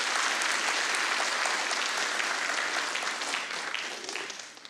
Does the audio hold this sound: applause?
yes